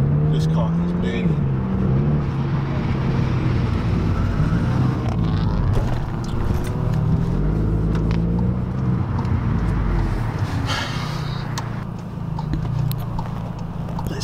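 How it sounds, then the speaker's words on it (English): A tuned Volkswagen Golf GTI with an APR Stage 3 upgrade at full throttle, a loud, sustained engine drone that rises in pitch over the run, with a few sharper bursts layered on top. "As soon as you open that throttle, though, boy, this car is burning."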